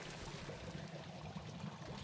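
Water pours and trickles steadily into a robot in the video game Beyond a Steel Sky, a continuous soft, burbling flow with no talk over it.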